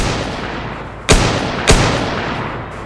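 Two sharp, loud gunshot cracks about half a second apart sound over a continuous rumbling noise bed in a dramatized spoken horror story.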